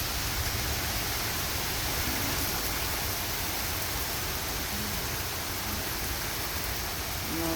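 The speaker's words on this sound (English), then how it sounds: "Nothing, just rain." Rain falls steadily outdoors on a stormy day, a dense, even hiss of drops that stays constant and moderately loud throughout, with no voices over it.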